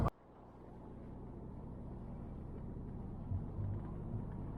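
An Audi 1.8T turbo engine running poorly with low fuel economy and sluggish response hums as a low, steady interior drone while driving, faint and even, with a brief swell near the end and no talk.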